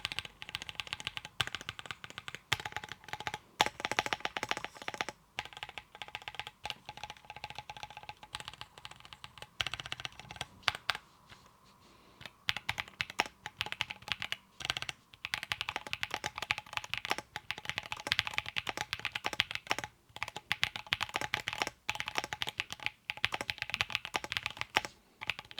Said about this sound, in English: here's a little sound test how the keyboard actually sounds